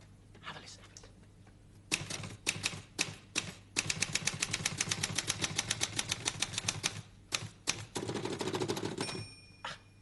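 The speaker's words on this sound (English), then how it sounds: "have a listen to the different sounds a typewriter makes" Rapid mechanical typewriter keystrokes on a manual machine loaded with fresh paper, sharp clacks in quick bursts with short pauses, close and loud, ending with a bright ring of the carriage-return bell.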